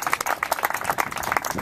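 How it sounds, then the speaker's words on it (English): Applause and clapping from a crowd at an evening benefit party and dedication ceremony for LGBT youth, steady and lively throughout the short burst with no talk over it. "I just want him to get a round of applause."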